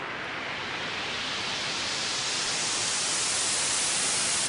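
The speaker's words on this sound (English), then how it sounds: "that's just going to open the white noise for us" A synthesized white-noise build-up hisses loud and steady while the filter gradually opens, brightening the wash over several seconds with a reverb tail; no voice.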